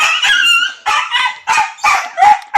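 A tied-up dog barks and yelps in five or six loud, close, high-pitched bursts spaced under half a second apart, whiny in tone.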